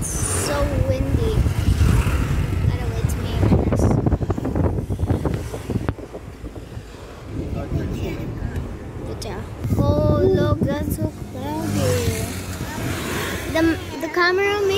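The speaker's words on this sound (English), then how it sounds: "I don't know if you can tell, but it's so windy." Wind buffets the microphone with low rumbling gusts, accompanied by vehicle noise from a moving car and people talking throughout, in Baguio.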